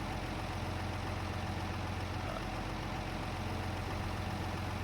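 A tractor engine idles in the Farming Simulator 25 video game, a low, quiet, steady rumble that holds evenly throughout with no voices.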